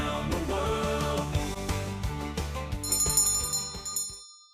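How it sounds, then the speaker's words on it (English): Bells added to a podcast ring out over a bright, rhythmic musical backing, with layered chimes swelling near the end before cutting off abruptly. "See, I added the bells."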